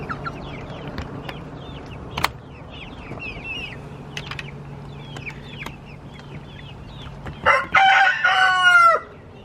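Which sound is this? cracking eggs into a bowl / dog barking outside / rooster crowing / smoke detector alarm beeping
rooster crowing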